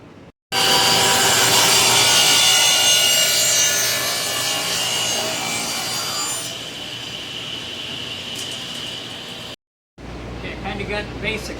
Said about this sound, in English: I'm going to take that over on the table saw and I'm going to rip her right on down there.